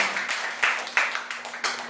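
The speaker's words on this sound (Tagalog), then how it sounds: "isa pang malakas palakpak para Chris Burr na kaya" Church congregation breaking into applause, a burst of loud, quick clapping from many hands that pulses and swells in uneven waves over a steady low hum.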